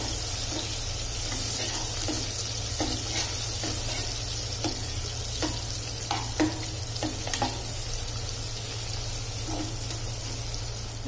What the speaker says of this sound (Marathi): कांदा चांगला परतून घेऊया तेलामध्ये।